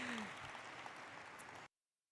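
An audience claps at a WeWork India Management Limited listing ceremony, dense steady applause at moderate volume with a voice briefly underneath, stopping abruptly into silence.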